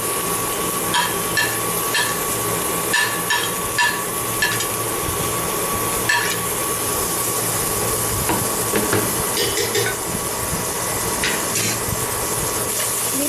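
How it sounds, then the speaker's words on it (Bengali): Onion, garlic, cumin and bay leaf fry in ghee with a constant bright crackle, while a spoon clinks and scrapes against the pot in uneven bursts, close up and fairly loud. "পেঁয়াজটা আমি ঘিয়েতে আর এই ফোড়নে দিয়ে পেঁয়াজ, রসুন, জিরা আর তেজপাতা দিয়ে আমি এটা ভেজে নেব"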